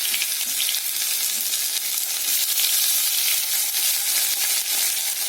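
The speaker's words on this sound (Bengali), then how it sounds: "এই আদা টুকরোটা ফোড়নে দেবো" Chopped ginger frying in hot oil with mustard seeds and a dried red chilli, a loud, dense, continuous sizzle heard up close with no voices.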